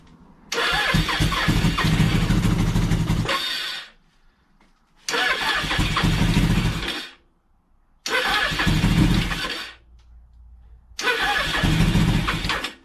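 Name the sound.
1983 Suzuki GS 1100E motorcycle engine starting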